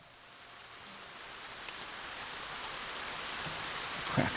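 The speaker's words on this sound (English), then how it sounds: "Start with some rain sound." Steady rain sound effect triggered from a Roland SP-404 sampler: a continuous, hissing wash of falling drops that swells slightly toward the end, heard alone with no voices.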